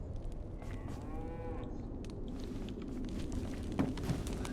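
Cattle lowing in a long, drawn-out moo with clear harmonic rise and fall around the first seconds, heard amid a steady rumbling, echoey background with faint shuffling steps later on.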